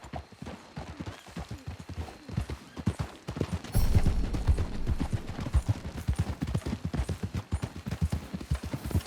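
Horses gallop in Red Dead Redemption 2, a steady rapid clip-clop of hooves close by, swelling louder midway, with a brief whinny mixed into the rhythm.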